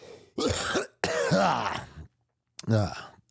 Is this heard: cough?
yes